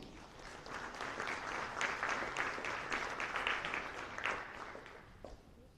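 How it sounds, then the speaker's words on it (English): A morning crowd at a sports summit applauds a keynote speaker, a full, steady round of clapping that swells through the middle and tapers off at the end, heard alone without talk. "let's give him a round of applause"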